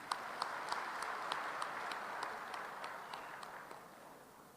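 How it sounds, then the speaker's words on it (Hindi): Audience applause at a political rally addressed by a Himachal chief minister, a faint, even patter of many hands clapping for a few seconds in a large outdoor crowd. "इसके लिए एक ताली आपको अपने लिए बनानी चाहिए।"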